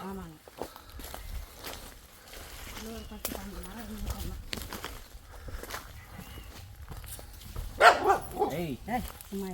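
A dog barks a few times toward the end in a forest tribal village setting, the short barks rising over people talking and rustling footsteps.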